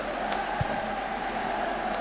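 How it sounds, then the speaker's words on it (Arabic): Stadium crowd roaring in a football video game's Egyptian league career mode featuring Al Ahly in 2005: a steady, dense wash of massed voices that holds at an even level, with no talk inside it. "الجماهير صوتها عالي معانا اهو."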